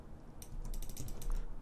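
Quick bursts of computer keyboard keystrokes click faintly while someone works in Modo, 3D modelling software, with no speech.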